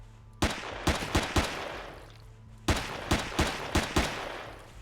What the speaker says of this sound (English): let's use some of these pistol rounds here